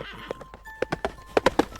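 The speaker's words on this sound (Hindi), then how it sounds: "तभी अचानक उनमें से एक घोड़ा अपने आप वापस आ जाता है।" Horse sound effect for a storytelling piece: a short run of clopping hoofbeats with a bright whinny over them, close and fairly loud, lasting under two seconds.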